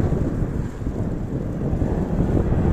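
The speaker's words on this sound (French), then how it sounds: "j'ai jamais vu une pluie comme ça, elle est super fine. Elle est poussée par le vent" Very fine rain is driven by strong wind on a Portuguese coastal road near a bridge, heard as a dense, constant low roar of gusts and buffeting against the microphone with no voices.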